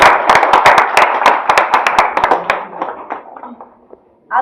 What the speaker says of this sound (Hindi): एक बार अपने लिए जोरदार ताली बजा